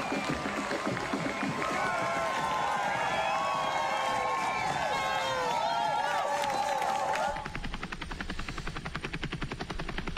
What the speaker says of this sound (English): Really good crowds out on the course.